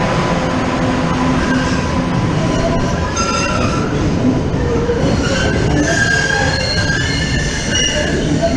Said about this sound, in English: we just got off the train